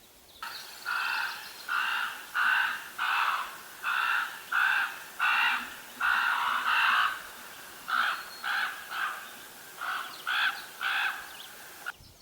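Young crows perched on a branch caw for food in quick, regular bursts, a steady run of harsh calls, a brief pause, then another series, moderately close with no talking.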